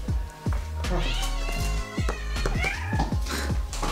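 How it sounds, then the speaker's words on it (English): Several clear meows from a cat named in a home setting, repeated close up over a few seconds while a person talks nearby. "Do you hear the meows?"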